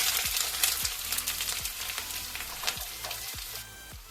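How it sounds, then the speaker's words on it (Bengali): Chopped onions fry in a pan with a constant bright sizzle, punctuated by regular low thumps and scraping strokes of stirring, close and fairly loud with no talk. "এবার এইগুলোকে আমি ভেজে নেব প্রথমে দিলাম কুচো পেঁয়াজ"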